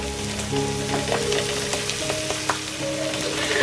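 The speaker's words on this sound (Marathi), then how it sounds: "हे वाटण आपण 2 मिनिट फ्राय करून घेणार आहोत" Masala paste with curry leaves frying in a pan, a steady close sizzle with scattered pops and a few scrapes of stirring throughout.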